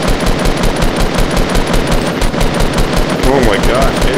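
Rapid automatic gunfire from a Fortnite Battle Royale match rattles steadily and loudly throughout, a dense burst of shots with a player's voice faintly mixed in.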